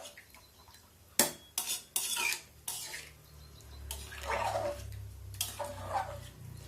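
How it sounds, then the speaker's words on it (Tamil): Metal clinks and scrapes of a spoon working through a pot of cowpea biryani rice, a few sharp knocks followed by softer swirling stirs with a low simmering hum beneath. "இப்போ சிம் கொஞ்சம் ஹையில் வச்சுட்டு நல்லா கிளறிட்டு"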